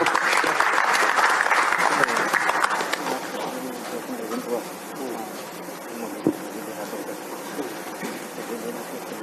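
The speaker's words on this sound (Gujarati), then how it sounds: "એમના માટે પણ બે તાળી એકવાર" An audience at a public political gathering claps in a dense, loud burst for the first few seconds, then thins into scattered, fading applause with crowd murmur.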